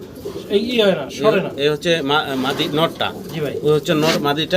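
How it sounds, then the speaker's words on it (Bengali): A black Lakkha pigeon sitting on its eggs gives repeated, close cooing in wavering phrases, fairly loud and continuing steadily throughout. "ব্ল্যাক লাক্ষা অলরেডি কিন্তু ডিম নিয়ে বসা আছে ডিমে তা দিতেছে"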